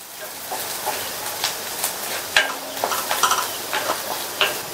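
Spice powder sautéed over raised heat in a pan, with soft sizzling under repeated scraping strokes of a spoon, close up and without speech.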